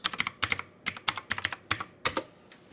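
Quick bursts of keystrokes clatter on a computer keyboard as a datasheet search for a BC558 PNP transistor is typed, close and crisp, in uneven clusters with short pauses between.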